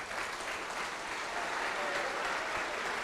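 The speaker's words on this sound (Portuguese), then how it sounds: "Vamos aplaudir a palavra de Deus" A church congregation claps steadily, a dense, even wash of applause that holds at the same level throughout.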